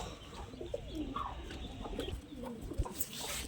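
Pigeons at a farm loft coo and rustle as their cage is opened, soft repeated coos and wing movement close by over a busy background with no talking.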